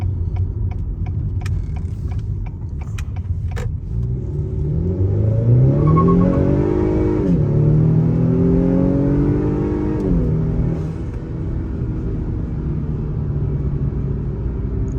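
A 2021 Acura TLX A-Spec with a detuned Type R engine revs up through rising gears, its pitch climbing in several sweeps over a steady rumble, then settling back to a lower hum.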